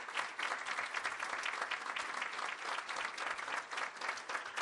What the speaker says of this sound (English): let's have one more round of applause for all the honorees and scholarship winners this morning.